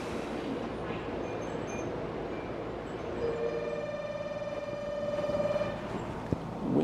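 A train runs along a mountain rail line, its steady rumble filling the clip while a high sustained wheel squeal rises in the middle and fades, with a sharp clunk near the end.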